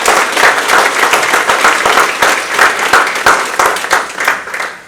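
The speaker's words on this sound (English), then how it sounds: "Yes, we can give ourselves applause." A large audience claps continuously, dense and loud, the applause swelling slightly before tapering at the end.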